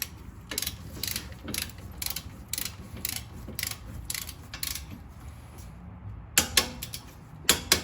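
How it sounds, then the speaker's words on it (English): Ratcheting wrench tightening the two front brake caliper bracket bolts on a 2011 Toyota Sienna, steady rapid clicking bursts in a regular rhythm, close and moderately loud, with a short pause before a few final clicks. "So, so the two bracket bolts are going to be torqued down to 60-ish."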